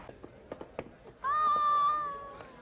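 A cat meows once in a Cowboy Bebop anime scene, a single drawn-out clear meow following a few soft taps and faint background voices.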